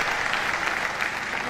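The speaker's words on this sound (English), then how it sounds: "One more time, a round of applause." A university crowd gives continuous, dense clapping for the newly appointed Dean of the Faculty of Arts, steady and full throughout with no voices rising above it.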